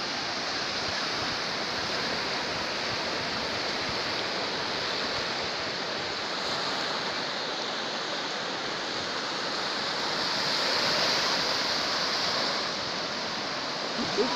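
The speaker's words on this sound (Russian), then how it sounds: "такой сильный прибой, такие волны, просто чудо." Strong surf breaks on a Baltic Sea beach at Liepāja in summer with a west wind, a dense continuous roar of waves washing ashore, loud and close with a gentle swell in intensity.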